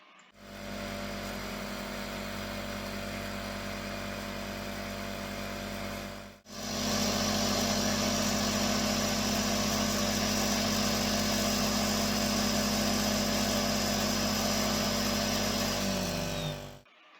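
A milling machine cuts a new case for a smartphone-attached smart key with a continuous, even motor whine. The whine breaks off briefly once, then carries on for the rest of the clip with no talking.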